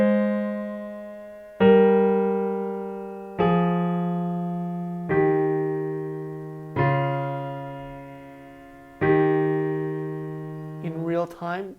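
Piano plays a song with both hands together, six separate chords struck at a slow, even pace, each ringing and fading before the next, ending in a brief flurry of quicker notes.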